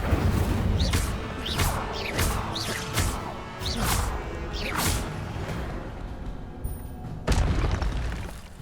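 Incendio fire spells strike in Hogwarts Legacy, a series of loud whooshing bursts and crackling impacts landing roughly once a second over a dense, rumbling combat backdrop, ending with a final sharp hit.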